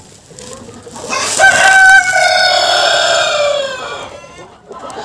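A Cochin rooster, a grown bird about a year and a half old, gives one loud, close crow that rises and holds for roughly three seconds before trailing off, with quiet background around it.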